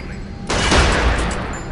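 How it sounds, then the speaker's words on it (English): Gunshots at a shooting range in the Area 51 PC video game, a sudden loud burst of rapid fire that starts abruptly and keeps rattling until the end. "Step on over to the range and fire off a few shots."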